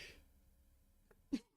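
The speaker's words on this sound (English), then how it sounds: "hang on, I got sneezed." A single sharp human sneeze bursts out near the end of a quiet moment, close and brief, preceded by a faint breathy intake.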